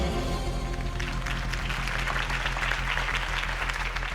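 Crowd applause rises after a campaign speech for Harvey Dent in the video game Batman: The Telltale Series, a steady dense clapping wash that holds for the whole stretch under a low music bed.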